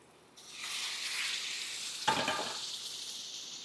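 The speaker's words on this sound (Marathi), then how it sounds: "पाणी टाकताना गरम पाणी टाकायचं।" Hot water splashes into a pan of semolina and mango pulp, where it sets off a broad hiss that settles into a steady sizzle. There is a short louder splash partway through, and no one speaks.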